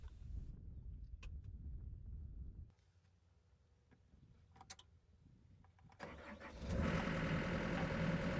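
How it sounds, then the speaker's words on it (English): A John Deere compact excavator's engine is cranked with a low rumble and clicks, then catches and rises into a loud, steady idle over the final seconds. "Buckle up before you start the engine."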